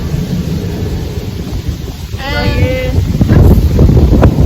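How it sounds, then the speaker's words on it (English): Outdoor wind buffets the microphone in a steady, loud rumbling roar, rising toward the end, with a brief voice-like sound in the middle. "this wind feels lovely though"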